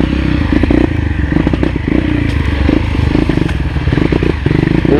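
Up close, a dirt bike engine pulls hard along a rough trail, its steady throbbing drone mixed with rattles and clatter from the bumpy ground.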